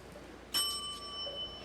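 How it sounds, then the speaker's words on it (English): A single bright ring of a bicycle-style bell is struck once and left to decay, a clear metallic ding with a lingering tone over faint background hiss. "Shameless promotion bell"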